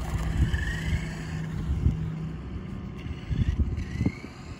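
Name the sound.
Traxxas Bandit RC car speed test run with Ovonic 3S battery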